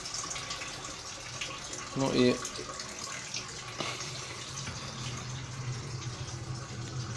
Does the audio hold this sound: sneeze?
no